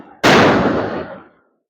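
A single sharp firecracker burst goes off outside, loud and close, with a quick decaying crackle that fades within about a second.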